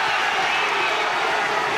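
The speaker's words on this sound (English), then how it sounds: "The crowd cheer Power." A British 118lb title boxing crowd cheers and roars steadily, a dense, loud wash of voices filling the whole arena.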